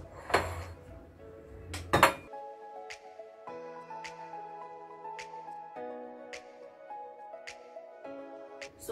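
Cooked rice spooned into a bowl: two sharp clinks of utensil on dishware stand out early, followed by lighter taps and ringing tones in a quiet kitchen.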